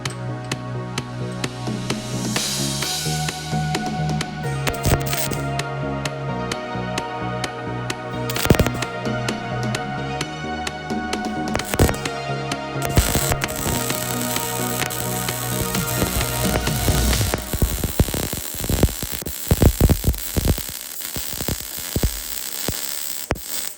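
A YESWELDER MP200 Pro multiprocess welder lays a pull-pass bead, giving a continuous close buzzing crackle with sharp popping spatter that grows rougher and more uneven toward the end.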